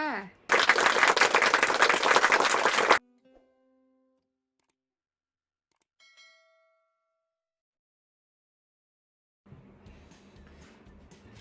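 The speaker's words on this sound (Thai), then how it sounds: "เก่งมากค่ะเด็กๆปรบมือให้ตนเองหน่อยค่ะ" A class of young children claps for themselves in a lively, dense burst lasting about two and a half seconds, which then stops abruptly into near silence broken only by faint chime-like tones.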